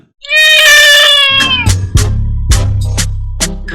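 A cat gives a long, loud drawn-out meow, followed by a few short clicks and thumps nearby.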